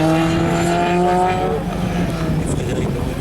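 A rally car runs a slalom course at Coutainville, its engine holding a loud, steady high drone that eases slightly as it moves away, with faint tire noise.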